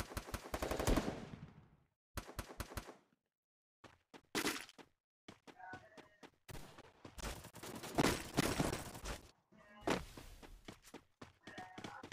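Bursts of Thompson submachine gun fire ring out in a video game, with rapid volleys and single shots scattered through quiet stretches. Footsteps and other game noises sit between the bursts, with no talk heard.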